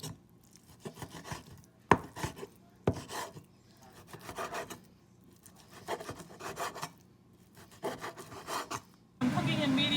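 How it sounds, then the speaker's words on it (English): A knife chops through stacked bacon on a cutting board in repeated rasping, thudding strokes with short pauses, close and fairly quiet, ending in a sudden burst of louder noise. "I stack my bacon and now I'm going to cut it into little pieces."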